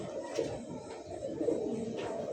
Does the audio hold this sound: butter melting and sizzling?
no